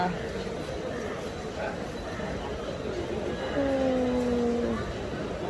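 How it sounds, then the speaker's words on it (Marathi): An AC local train pulling into Andheri station, a steady rumbling rail roar with a brief tonal squeal or whine near the end, under station crowd noise. "ए सी ट्रेन आहे आमची ट्रेन आलेली आहे ही बघा"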